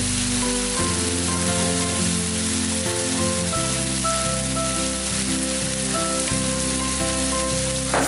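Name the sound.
frying ground chili, shallot and garlic spice paste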